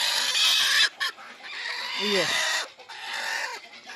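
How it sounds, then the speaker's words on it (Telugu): A brooding country hen sitting on eggs gives low, grumbling clucks up close amid rustling and hissing noise, with a brief spoken word near the start. "ఇది నాలుగో కోడి పొదుగుచ్చినది కూర్చున్నది"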